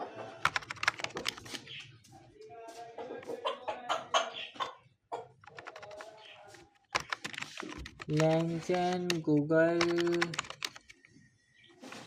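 Computer keyboard typing during a coding session, bursts of key clicks mixed with someone speaking, plus a loud tonal harmonic sound near the end.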